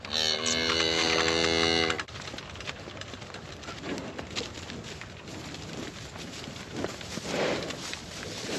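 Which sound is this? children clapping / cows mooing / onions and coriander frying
cows mooing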